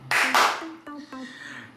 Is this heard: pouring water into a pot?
no